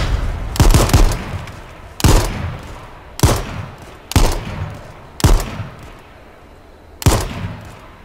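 Six loud, sharp gunshots from the video game H1Z1 battle royale, spaced about a second apart, each with a short ringing decay and no talking.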